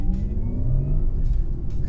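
Synthetic futuristic drive sound from a Porsche Taycan Turbo S electric car, piped through its speakers: a steady low hum with slowly rising whine tones, continuous and moderately loud throughout, with no voices.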